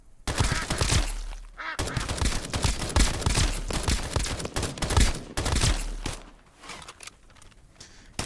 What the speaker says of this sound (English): Assault rifle's popping off right now.